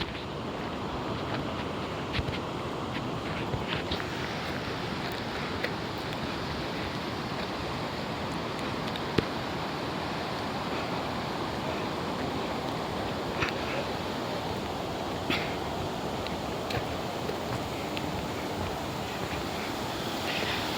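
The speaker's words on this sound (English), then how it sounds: "today we were chasing the waterfalls" Kajulu waterfalls on a river heard from nearby: a broad, steady roar of rushing water fills the whole scene, with occasional wind buffeting on the microphone and faint knocks.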